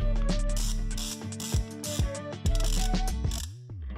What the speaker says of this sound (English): So Jaxon, if you'd put the 14 millimeter onto that ratchet